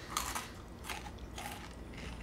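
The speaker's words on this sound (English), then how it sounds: "It is crunchy. Oh, it's very crunchy." Crunchy cheese-flavoured snacks are bitten and chewed up close, giving three or four sharp crackling crunches spaced about half a second apart, with no talk.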